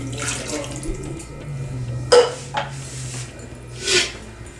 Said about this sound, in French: Maintenant, je vais ajouter de l'eau.